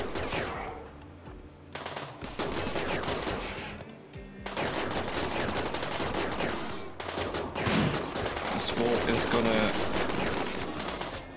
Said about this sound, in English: Apparently my turret is still shooting, which is nice.